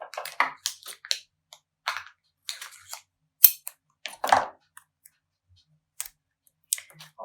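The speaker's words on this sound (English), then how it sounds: "I'm going to tape her down." Tape is pulled and pressed onto a paper cutout for a collage, producing sparse, close crackles, clicks and short ripping sounds separated by silence.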